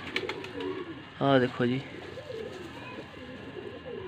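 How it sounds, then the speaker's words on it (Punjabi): Pigeons in a loft in Faisalabad give a short burst of deep, throaty cooing, close and clear for about half a second. Someone speaks briefly before it, over faint background murmur. "ਦੇਖੋ ਜਰਾ ਕਬੂਤਰ ਜਿਹਨਾਂ ਨੂੰ ਕਬੂਤਰ ਕਹਿੰਦੇ ਆ"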